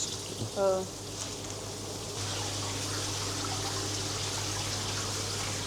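Water runs steadily while brewing equipment is washed at a beer festival in Tskaltubo. The quiet, even hiss settles in after a brief tonal sound near the start.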